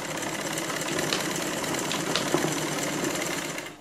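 A sewing machine stitches a gown, a fast, continuous mechanical rattle heard up close with no talking, stopping abruptly at the end.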